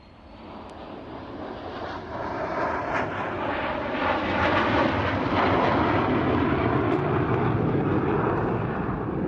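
A Canberra PR9 jet aircraft flying an orbit gives a steady, broad engine roar that slowly swells and stays loud throughout, heard from the ground with no voices.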